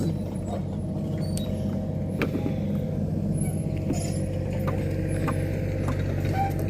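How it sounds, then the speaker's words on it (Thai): A truck arrives at a house construction site to backfill the dug foundation, heard as a steady low engine rumble and idle close by, with occasional light clanks and knocks over it. "รถก็จะเริ่มมาแล้วนะคะ"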